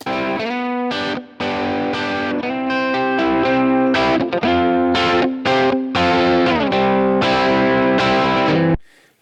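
A distorted electric guitar, a Les Paul through a Marshall amp with a crunchy tone, plays loud chopped riffs and chords with short gaps, ending abruptly.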